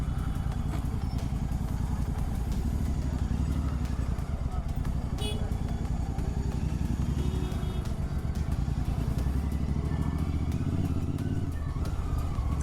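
A Royal Enfield Continental GT 650 fitted with an RRP aftermarket exhaust rumbles close by with a deep, steady throbbing idle and rev, amid weekend market traffic, with voices talking over it.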